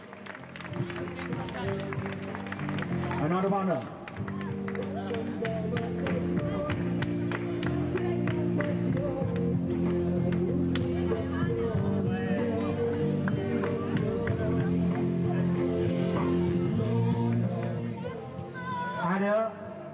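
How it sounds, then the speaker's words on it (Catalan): A crowd applauds marathon finishers at an outdoor half-marathon award ceremony, steady clapping running throughout under a PA announcer's voice, fading at the end. "Un fort aplaudiment per tots ells perquè són uns valents."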